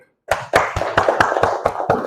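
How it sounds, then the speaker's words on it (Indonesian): Hands clap in a classroom training session, about eight distinct claps after a short silence, close and fairly loud, with no talk over them. "Tepuk tangan lagi."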